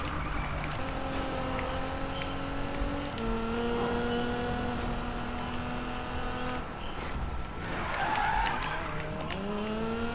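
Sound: Nissan GT-R braking and tires skidding in Need for Speed video game

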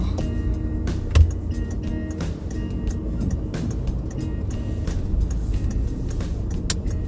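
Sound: car driving on after refuelling

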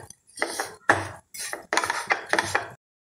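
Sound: besan halwa being roasted and stirred with ghee and sugar

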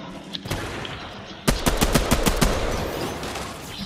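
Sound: sniper rifle shots in a Red vs Blue video game

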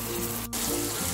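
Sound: 100 ml of water poured into hot frying spice paste

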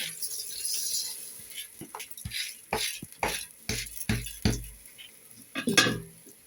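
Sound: rice being added to pot for pulao

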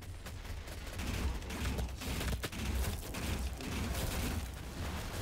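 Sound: gunfire in the video game DOOM

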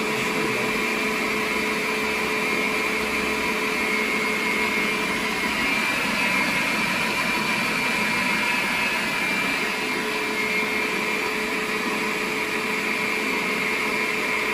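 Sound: electric stand mixer running

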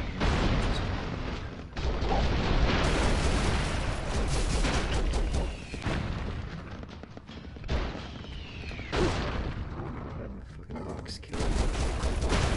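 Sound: gunfire from the video game Broforce

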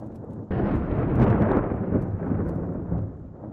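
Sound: thunderstorm in WorldBox video game

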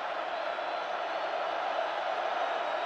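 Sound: football stadium crowd cheering

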